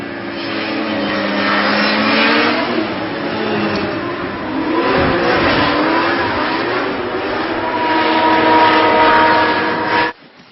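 A loud, steady aircraft engine drone holds throughout, swelling slightly as it seems to draw nearer, then cuts off abruptly near the end.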